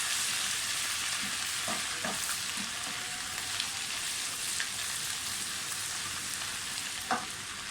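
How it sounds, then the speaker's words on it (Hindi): Garlic ginger paste fries in a pan with a steady hiss of sizzling oil and a few faint stirring scrapes, close and continuous. "लहसुन अदरक का पेस्ट डाल दें। थोड़ा सा इनको फ्राई करें।"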